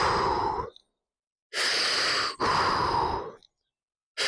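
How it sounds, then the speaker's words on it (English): Three slow, deep breaths drawn near and close during a seated posture stretch, chin to chest with forearms against the ears, each a long airy inhale or exhale separated by short silent pauses. "3 deep breaths here."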